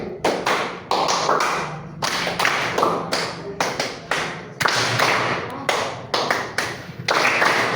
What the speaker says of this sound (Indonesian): Kalian tuh jawab tepuknya kayak gini.